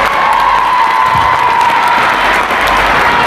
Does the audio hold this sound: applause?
yes